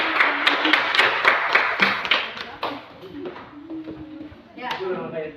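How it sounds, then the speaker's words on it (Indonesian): Hearty clapping from a classroom audience at an Indonesian teacher-training session, a burst of many hands that trails off after about two seconds, followed by scattered taps and quieter room noise. "Ya, berikan aplaus untuk"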